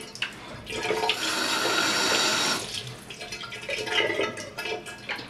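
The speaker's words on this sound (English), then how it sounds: "Short pours out the most water." A tilt flush valve on a toilet, set to the short setting, releases a loud rushing surge of water that lasts about two seconds. It then fades into softer gurgling and trickling refill.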